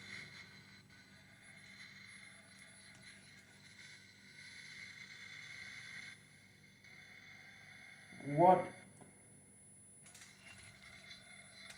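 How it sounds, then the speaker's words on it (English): An electric wheel hub motor on a new wheel gives off a faint steady mechanical whir and whine, close to the microphone. A short louder rasping grind breaks in partway through, and someone speaks briefly. "There's a noise coming out of the hub motor."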